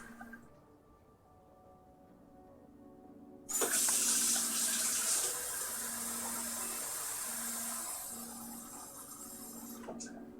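Water runs from a tap into a glass, starting abruptly after a few seconds of quiet and pouring steadily and fairly close for about six seconds before cutting off, over a faint low hum.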